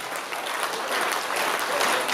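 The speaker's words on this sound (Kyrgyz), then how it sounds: "Эсиңизге 5 секунд кол чаап коечу меймандар." Wedding guests at a restaurant clap steadily in a dense, continuous burst of applause, moderately loud and even throughout.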